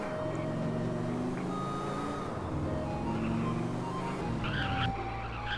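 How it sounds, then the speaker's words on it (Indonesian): A car engine in the GTA SAMP Android mod racing steadily with shifting pitch, like revs climbing through gears, loud and continuous with no speech over it. "kalau misalnya kalian masuk ke kendaraan itu nanti ada suara kayak hidupin mesin gitu ya"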